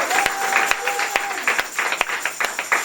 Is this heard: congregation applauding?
yes